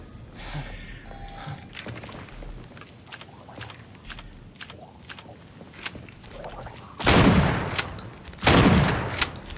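A pump shotgun fires in the video game Daymare 1998: two loud, booming blasts near the end, preceded by scattered sharp clicks and light in-game clatter.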